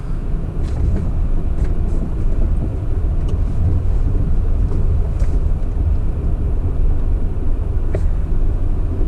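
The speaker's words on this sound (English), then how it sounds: "I hear the car sounding normal, like it always sounded." A Toyota Camry L engine runs steadily and normally after timing belt and oil pump work, with a loud, continuous low rumble, close by and unbroken throughout, with no voices.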